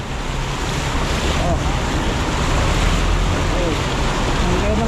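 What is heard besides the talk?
strong floodwater current rushing through intersection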